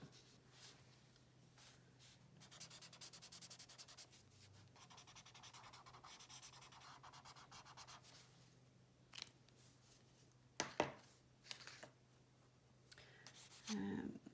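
A coloured pencil scratches and rubs across paper up close in soft, uneven strokes and bursts, with a low steady hum and a few louder knocks and handling noises.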